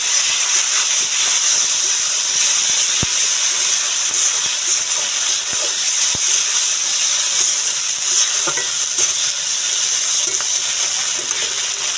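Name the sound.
frying ground spice paste with onions for mustard egg curry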